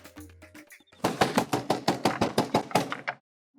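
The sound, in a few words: knocking on a door at night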